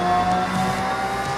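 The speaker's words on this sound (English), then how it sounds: "Love the sound of this car. It's the turbo fan." A racing game car with a turbo fan drones steadily, its engine and whine holding a constant pitch, loud and close with no talk over it.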